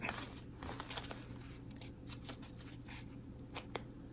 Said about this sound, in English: They stapled it, which I'd rather you didn't do, so I've got to be careful getting the wrapping off so I don't snag the fabric.